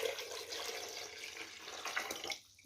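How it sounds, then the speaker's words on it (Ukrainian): Tap water pours steadily into a pot set for canning jars of winter salad, a continuous close splashing rush that cuts off near the end, with no talk. "я залю водою"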